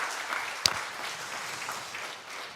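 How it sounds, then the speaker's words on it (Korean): Church congregation clapping in a worship service, a soft, steady wash of scattered hand claps with one sharp close clap standing out early, fairly faint and with no talk over it. "이럴 때는 교회에서 박수 한번 해도 됩니다."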